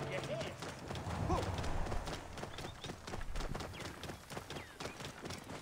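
Horses galloping in the video game Assassin's Creed Origins, a quick rhythmic clip-clop of hooves running at moderate loudness, with the player's voice speaking over parts of it.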